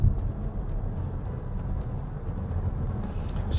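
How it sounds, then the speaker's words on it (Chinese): A Roewe Marvel X rear-drive dual-motor electric car accelerates from 60 km/h, heard from inside the cabin as a steady low road and motor rumble with no voices. "我们现在做一个半途的加速啊，现在是60公里的时速"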